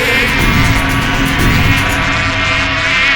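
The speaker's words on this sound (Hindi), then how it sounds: "किसी ने मधुमक्खी को छेड़ दिया क्या?" A dense, steady buzzing hum of many bees fills the space, loud and continuous without pause.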